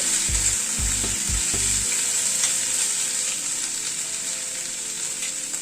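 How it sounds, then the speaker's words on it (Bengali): Garlic (7-8 cloves) and green chilli paste fry in a pan with a constant bright sizzle. Several dull knocks and scrapes from stirring land in the first two seconds, then the frying hiss continues alone. "একটু নাড়াচাড়া করে নিলাম রসুন আর কাঁচা লঙ্কাটাকে।"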